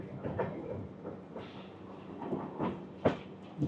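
A train running on rails, a low rumbling ride with rhythmic clacks and knocks recurring every so often.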